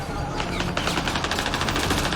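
Rapid automatic gunfire from the video game Mass Effect: Andromeda rattles in a dense, continuous burst of quick shots, loud and close throughout, with no talk over it.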